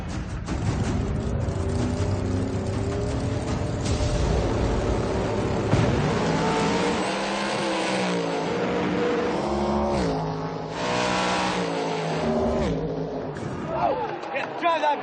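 A hot rod drag race car engine roars loud and close for the whole stretch, its pitch rising and falling with revs, while people talk over it.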